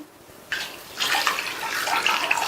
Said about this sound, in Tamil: 3/4 கப் தண்ணி சேர்த்திருக்கேன். நல்லா கலந்து விட்டுருங்க.